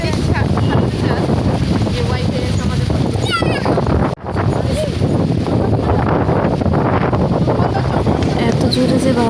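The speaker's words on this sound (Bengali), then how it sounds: "খুব জোরে বাতাস হচ্ছে" Strong seashore wind roars continuously against the microphone on a sandy beach, loud and gusty throughout, cutting out briefly for a moment partway through before the buffeting resumes.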